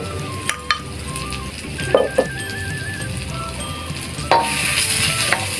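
Pork ribs stir-fry in a pan for a Thai bamboo-shoot stew, with a loud continuous sizzle and scattered sharp clinks and scrapes of a utensil against the pan, and no talking.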